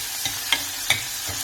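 Soft, steady sizzle of tomatoes sautéing in a pan, with a few light clicks of stirring spaced through it.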